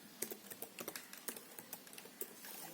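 Fast, light keystrokes on a computer keyboard, a quick run of soft clicks at close range with no talking.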